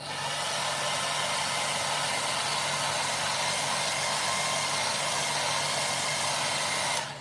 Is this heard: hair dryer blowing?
yes